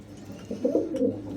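Soft, low pigeon coos rise midway through, a few rounded murmuring calls close by from a pigeon coop against a quiet background.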